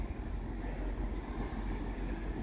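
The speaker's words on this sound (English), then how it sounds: "So here comes my train, the 10:09 of anti-West Coast service to Blackpool North." Avanti West Coast Class 390 Pendolino passenger train arriving at Helsby station on the service to Blackpool North, a steady loud rumble and rolling roar that fills the whole stretch without a break.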